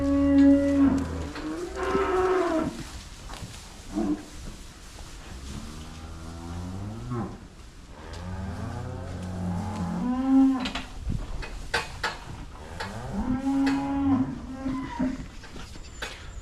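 Cattle in a heifer barn low repeatedly and loudly, several long moos overlapping and recurring throughout, close by, with no talk over them.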